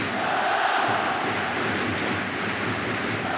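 Packed basketball arena crowd during a tied El Clásico game between Barcelona and Real Madrid, roaring in a dense, continuous wash of noise from all around with no break.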